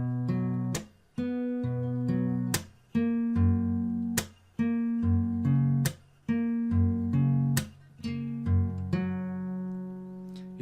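Fingerstyle acoustic guitar playing bars 144 to 146 of a song arrangement: plucked bass and melody notes punctuated by sharp percussive slaps, close and solo.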